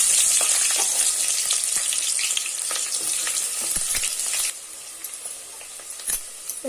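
Onions frying in hot ghee with cinnamon, cloves and bay leaf for a chicken biryani, a loud, steady hiss that drops in level partway through, with a few soft stirring clicks near the end.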